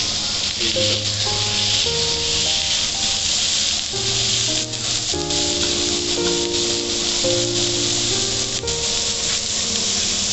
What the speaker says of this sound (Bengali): চেপে চেপে দিচ্ছি যাতে ঠিক করে ফ্রাইটা হয়